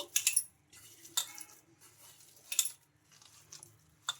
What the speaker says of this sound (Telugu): ఇంకా ఈ బియ్యం పిండి, సాల్ట్ వేసుకొని ఒకసారి మొత్తం ఇలా బాగా కలుపుకోవాలి